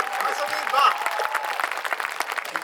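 A crowd at a Hindi comic poetry recital applauds, scattered clapping mixed with a voice talking over it, moderately loud throughout.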